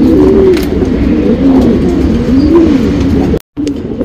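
Pigeons coo repeatedly in low, wavering calls close by, steady over a constant background hum, with no talk.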